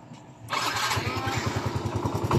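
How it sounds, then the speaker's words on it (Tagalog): A Yamaha Mio i 125 scooter engine with a check-engine error catches after a brief scrape on a push start, then settles into a steady, close putter with a faint rise at the end. "mandar na kanyang motor."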